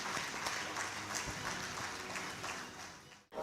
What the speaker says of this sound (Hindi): ज़ोरदार तालियां हो जाए उन सभी फ़ोटोग्राफ़र्स के लिए और उनकी विनी फ़ोटोग्राफ्स के लिए।